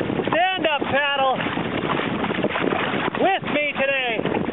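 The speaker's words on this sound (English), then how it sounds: "It's way too windy unless you're going with the wind." Strong wind at Grayton Beach buffets the microphone with a continuous roaring rush that lasts throughout, while a voice talks over it in two short stretches.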